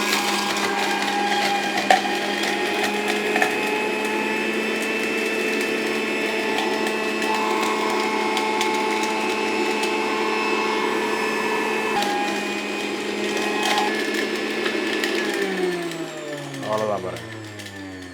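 A low-cost electric juicer whirs steadily with a motor hum and rattling texture, then winds down near the end as a voice begins speaking.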